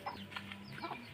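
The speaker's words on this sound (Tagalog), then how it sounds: "Manok na." A chicken clucking close by on a rural property during a mango-picking outing, several short throaty clucks in an uneven rhythm over a faint low hum.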